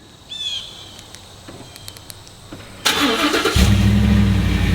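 After a quiet outdoor stretch with a few chirps and clicks, a first-generation Ford Raptor truck engine cranks and starts by remote start, settling into a loud, steady idle nearby.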